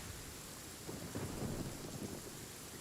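Rain and rolling thunder in the Genshin Impact video game, a steady wash of rainfall with a low rumble that swells through the middle and then eases, heard alone with no talking.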